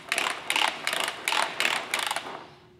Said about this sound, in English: So we'll start by pulling out the air hose.